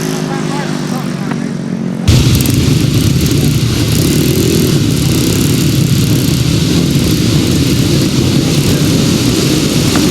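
Grasstrack racing motorcycles, 350 solos, rev loudly at the start line, a dense, roaring engine blare that bursts in after two seconds of quieter sound and holds steady and close for the rest.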